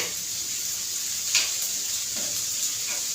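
Paneer gravy masala roasts in oil on a flat iron tawa, a soft steady sizzle and hiss with a few brief stirring scrapes, close and moderately quiet, no talking.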